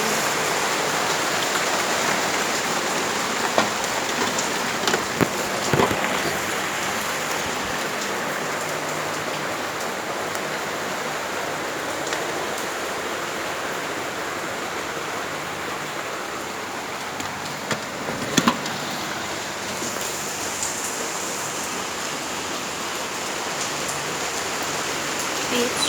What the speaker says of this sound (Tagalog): It's raining man.